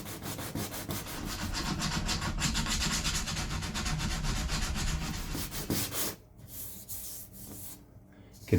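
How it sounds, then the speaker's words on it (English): Fiberglass on a boat's curved radius is hand sanded, a steady close scraping rub of abrasive strokes for about six seconds before it eases off into a few lighter, quieter scratches. "I'm hand sanding the radius. I don't want to burn through that fiberglass skin."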